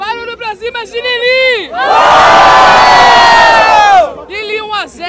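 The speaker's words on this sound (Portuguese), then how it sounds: "Barulho pra cima de Jessiquinha! Barulho pra cima de Lili!" A crowd at a Brazilian street rap battle cheers and roars loudly for about two seconds, with an emcee's amplified shouting before and after the sustained din.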